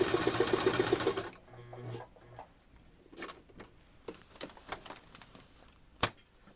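Sewing machine stitching fabric for a baby changing mat, a short close burst at the start, then quiet handling clicks and taps as the fabric is lined up.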